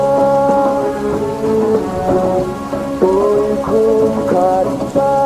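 Steady rain falls continuously under a muffled autumn song playing from another room.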